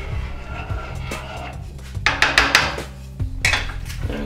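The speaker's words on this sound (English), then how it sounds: "And you stir it all up." A spoon stirs farina semolina cereal with milk in a pot, giving a series of close knocks and scrapes against the metal, bunched in quick clusters with pauses between.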